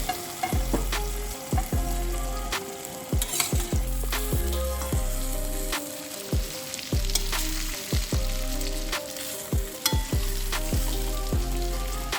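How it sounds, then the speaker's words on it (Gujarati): Bottle gourd muthiya sizzle in hot tempering oil in a pan, a loud steady fry punctuated by regular sharp clanks and scrapes of a spatula stirring, about one strike every half second. "આપણો ફાઇનલી મુઠિયાનો વઘાર થઈ ગયો"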